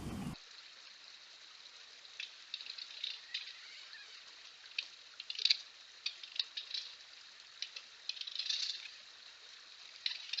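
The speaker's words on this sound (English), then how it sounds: "let me find some keys and I'll open it up for us" Small metal keys jingle and clink faintly and close by, in scattered bursts against a quiet background, as someone searches through them to open a cable lock on a trail camera.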